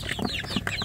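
Native village chicks peep in a steady run of high, thin chirps, near and fairly loud, with several birds calling over one another.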